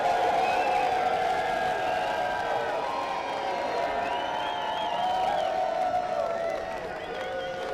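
Large crowd packed into the stands at a Major League Rugby match between Seattle and San Diego, a steady roar of many voices and cheering filling the stadium, continuous and fairly loud throughout.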